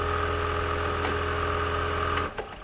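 An industrial plain buttonhole sewing machine running with a steady, loud mechanical hum and whir for about two seconds, then dropping off abruptly into a few softer clunks.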